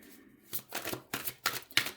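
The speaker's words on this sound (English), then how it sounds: "I enjoy shuffling." Tarot cards being shuffled by hand, four quick papery riffles in a fairly regular rhythm, close and soft, with no talking.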